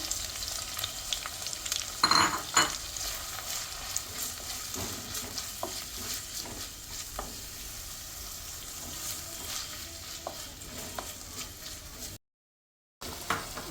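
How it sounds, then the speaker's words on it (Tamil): Shallots, sliced onion and curry leaves sauté in a pan for a prawn roast, giving a continuous crackling sizzle with repeated stirring scrapes and a brief louder clatter early on, with no voices. "சின்ன வெங்காயமும் கருவேப்பிலை போட்டுருங்க. ஒரு பெரிய வெங்காயம் அரிஞ்சு வச்சுருக்கிறேன், போட்டுக்கோங்க. நல்லா வணங்கட்டும்."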